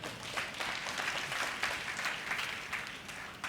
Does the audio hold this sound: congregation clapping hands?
yes